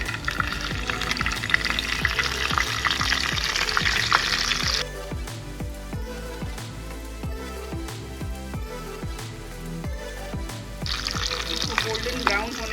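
Cashews sizzling and frying in about two tablespoons of hot oil for a South Indian curd rice tempering, a steady crackling hiss that fades partway then flares up again, with stirring taps throughout.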